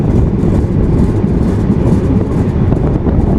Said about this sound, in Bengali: এই যে ট্রেন কিন্তু আমাদের ঢুকতেছে